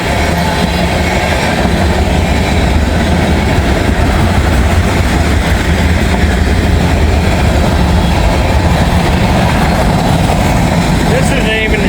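A freight train rumbles past close by, a loud, continuous roar of wheels and cars with steady clatter, and a voice is briefly heard over it.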